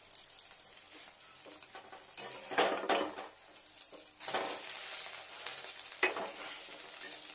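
Eggplant, potato and egg fry in oil in a wok, sizzling softly under several bursts of stirring and metal scraping against the pan, close and intermittent with no talk.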